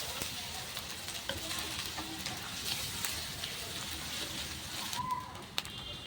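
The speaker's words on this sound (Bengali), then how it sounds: "এবার আমি এর মধ্যে দিয়ে দেবো কেটে রাখা পেঁয়াজ। পেঁয়াজটাও এবার অনবরত নাড়াচাড়া করে" Chopped onions stir-fried in oil until reddish for spicy mutton keema with peas: a dense, steady sizzle with stirring scrapes, and faint bird coos in the background.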